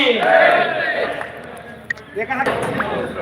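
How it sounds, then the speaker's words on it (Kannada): A crowd loudly shouting jaikara hails for a swami at a public gathering, a dense, roaring mass of voices that swells and then dips slightly, close and loud throughout. "ಶರಭಯ ಸ್ವಾಮಿ ಅವರಿಗೆ ಎಲ್ಲರೂ ಜೋರಾಗಿ ಜೈಕಾರ ಹಾಕಬೇಕು"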